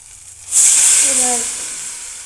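Spiced masala for a chickpea and green pea curry hits hot oil with a sudden loud hiss that fades slowly into a steady sizzle over about two seconds.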